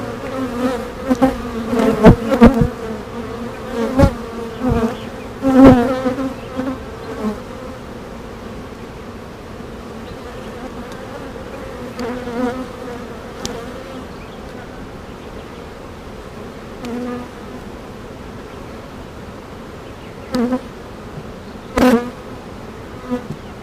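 Honeybees buzz steadily through an early May beehive inspection on a North Carolina farm, a dense, continuous hum with scattered louder passes from bees flying close.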